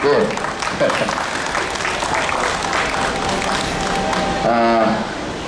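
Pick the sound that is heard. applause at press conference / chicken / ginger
applause at press conference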